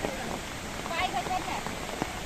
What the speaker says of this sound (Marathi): मगाशी पाऊस नव्हता, आता पाऊस चालू झाला आहे